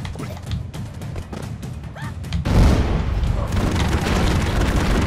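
Explosions and machine-gun fire from the game Broforce: a rapid stutter of shots, then a heavy booming blast that leaves a dense, loud rumble of continued gunfire and destruction.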